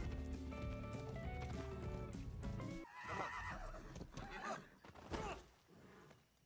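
A horse in a video game neighs with a loud, drawn-out whinny, followed by rapid clip-clopping hooves as it gallops away, over layered game sounds.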